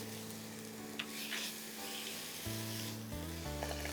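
Mutton liver frying in a pan sizzles and bubbles steadily as water is added, keeping up a continuous close hiss with a faint low hum underneath and no talking.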